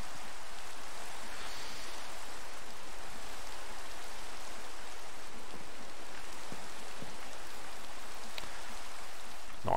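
Rain falls steadily in a Minecraft Create survival world, a dense, even hiss of drops lasting throughout with no pauses and no speech over it.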